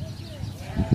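Goats on a farm in Saudi Arabia give a couple of short, low bleats near the end, heard close over faint rustling and background noise.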